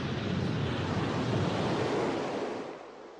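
Heavy sea waves pounding in a dense, continuous roar of surf with wind, loud and close, easing off toward the end with no voices.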